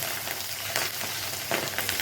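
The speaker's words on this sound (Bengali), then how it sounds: "মাছগুলো একটা একটা করে ভেজে আগে উঠিয়ে নিই" Small baby hilsa fish frying in hot mustard oil in a home kitchen, giving a steady close sizzle with a few louder crackling bursts and no talk.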